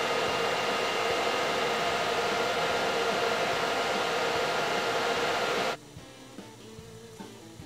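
Steady, loud MIG welding on 1-inch square steel tube, a continuous hissing crackle held for about six seconds before it cuts off abruptly, leaving quiet shop ambience.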